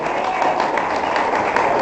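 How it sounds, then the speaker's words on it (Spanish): Church congregation applauding together in a steady, dense wash of clapping that fills the space from start to finish, with some voices mixed in. "¡Den un aplauso!"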